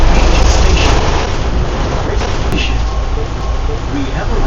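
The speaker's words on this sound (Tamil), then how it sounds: "ரயில் போகுது" A loud, continuous rumbling roar of a monorail train rolling past on Sentosa, Singapore, broad and noisy throughout with no clear pauses.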